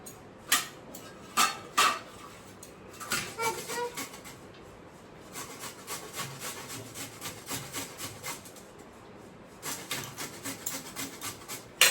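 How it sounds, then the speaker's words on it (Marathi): Red pumpkin being grated by hand for sweet kheer, a run of rough scraping strokes in bursts with short pauses between, close and fairly loud with no talking. "आता मी ना हे छान किसून घेते."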